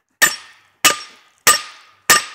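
A hammer strikes hot knife steel to draw it out, four sharp metallic blows in an even rhythm with ringing decays between them, close and clear.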